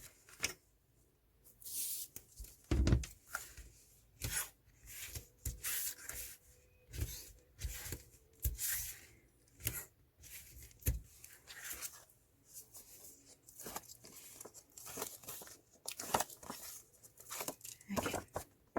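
Adhesive tape tearing and being pressed onto a paper pop-up cut-out page layout, with bursts of ripping and crinkling scattered through the stretch and quiet talk now and then.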